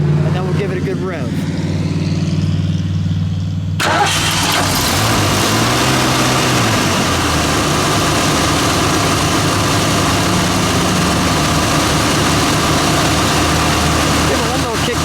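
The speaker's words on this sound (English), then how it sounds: "Let's fire it up, shall we? We'll let it idle." A 1973 Ford Maverick 302 V8 engine starts up and settles into a loud, steady, rumbling idle that continues throughout, with a low throbbing vibration.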